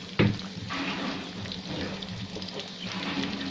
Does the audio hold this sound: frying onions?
yes